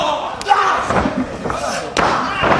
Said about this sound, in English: Slater with the pickup, slams him down hard